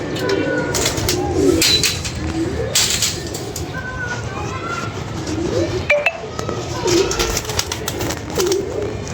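Pigeons coo repeatedly in soft, low, throaty calls, close by, over a background of rustling and occasional clinks.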